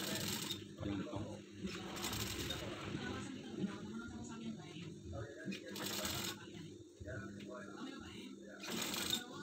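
A sewing machine runs in short bursts while stitching a shanghai collar onto a garment, the mechanical whirr stopping and starting with soft handling noises between runs.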